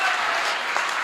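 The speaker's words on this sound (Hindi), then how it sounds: "आप लोगों को तालियां बजानी ही होगी" A short burst of loud, dense audience applause at a Hindi kavi sammelan poetry recital, continuous clapping with no speech.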